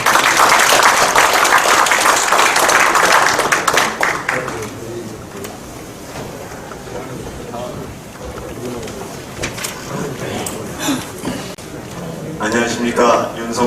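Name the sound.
applause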